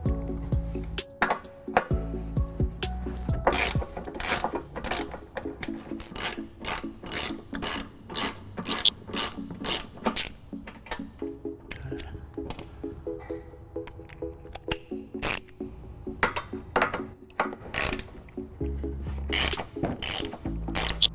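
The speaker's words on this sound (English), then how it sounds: "We're going to use an 18mm socket and a 15mm socket, just like the passenger side." A socket ratchet with 18mm and 15mm sockets removing frame bolts on a 2009 Dodge Grand Caravan during a trailer hitch installation, with long runs of rapid close clicking broken by pauses, scrapes and a few metallic knocks.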